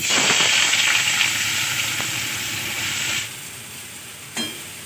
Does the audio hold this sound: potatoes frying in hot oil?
yes